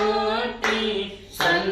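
Hands clap during Telugu Christian hymn singing: two sharp claps land about a second apart, close and loud, over a steady sung melody.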